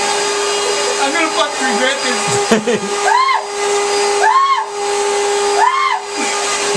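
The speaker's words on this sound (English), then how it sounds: "I'll have to reach up with the vacuum at the same time." A vacuum cleaner roars steadily and close up, its hiss broken by rising and falling whines as it strains while trying to suck up a dragonfly, with someone speaking over it.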